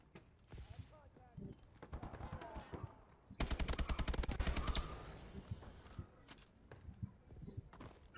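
Gunfire in the game Call of Duty: Advanced Warfare, with bursts of shots early on and then a dense, loud rapid-fire volley in the middle, while someone talks over parts of it.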